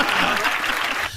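An applause sound effect triggered from a podcast soundboard button, a brief burst of steady dense clapping that cuts off abruptly after about a second.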